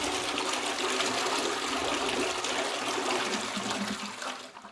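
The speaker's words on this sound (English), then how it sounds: "I'm going to flush the toilet." A household toilet flushing with the cistern cover removed, a loud rushing gush of water that holds steady before tapering into a trickle as the tank drains.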